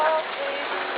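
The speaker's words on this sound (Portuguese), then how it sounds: "No momento chove pra garantir a emoção do barro." Rain pours steadily at a street carnival in Guaxupé, Minas Gerais, a dense, close hiss of falling water with no voices over it.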